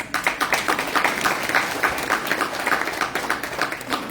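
An audience at a Telugu bhajana awards function applauds, with a brisk, uneven patter of many hands clapping at moderate volume for about four seconds.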